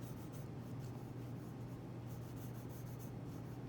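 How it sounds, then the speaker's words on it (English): A pencil moves across paper while drawing a cube for a still-life form study, producing a steady, close scratching rasp that runs continuously without pause under a low hum. "Draw a square."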